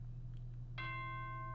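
A single bright chime rings out in the Danganronpa video game, a sustained bell-like tone that starts suddenly and holds steadily over a quiet background hum.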